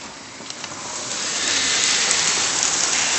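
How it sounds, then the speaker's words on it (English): Steady rain pours during a summer thunderstorm, a dense close hiss that swells slightly louder partway through, with no clear thunder and no talking. "Now it's just rain."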